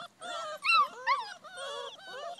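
Several European Basset Hound puppies whimper and yip close by outdoors, high wavering cries overlapping in short bursts with brief pauses.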